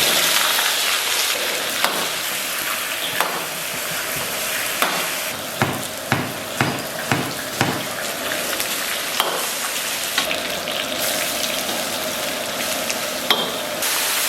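Sugar caramelizing in a wok for sweet and sour ribs, a dense continuous sizzle with a run of sharp spatula scrapes and taps near the middle, close and fairly loud.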